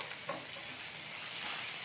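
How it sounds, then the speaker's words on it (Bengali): Chopped onions sizzle in a pan, a brief, dense, even hiss with a faint stirring scrape. "পেঁয়াজটাকে আমি একটু ভালো করে ভেজে নেবো"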